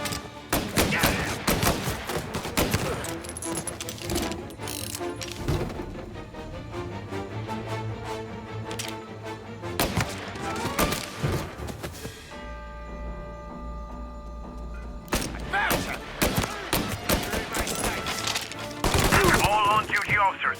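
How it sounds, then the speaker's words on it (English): Bursts of gunfire crack out in a Mafia Definitive Edition shootout, rapid volleys and machine-gun runs clustered at the start, middle and end, over a continuous game soundtrack and ambience. "All on-duty officers, gunshots being reported."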